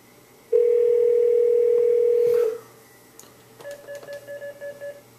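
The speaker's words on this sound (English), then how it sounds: "doesn't look like we're going to get James on the phone" Telephone dial tone sounding as a loud steady tone for about two seconds, followed by a quieter sequence of short repeated beeps, with no voices.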